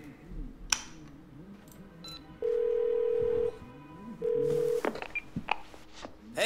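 A telephone in the video game Twelve Minutes gives two steady ringback tones, each held about a second, amid clicks, handling noises and quiet game ambience.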